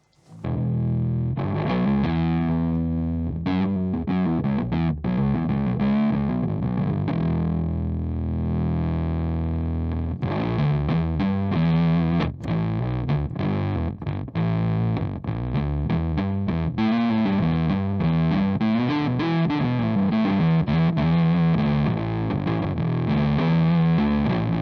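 Bass guitar runs through a Great Eastern FX Focus Fuzz pedal, a thick, buzzing distorted tone playing sustained notes and busy riffs for about twenty-five seconds, with a short pause near the middle and no voices over it.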